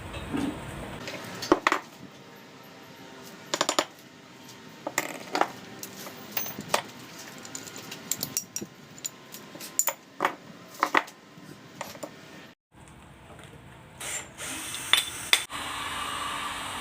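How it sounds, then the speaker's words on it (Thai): Small metal ball bearings are handled while a 5-inch Makita MT904 angle grinder is repaired, giving sharp, close clinks and taps in irregular bursts over a quiet background. "เราได้ลูกปืนแล้วเราก็ใส่ลูกปืนไปก่อนเลยนะครับ ใส่ลูกปืนเข้าไป"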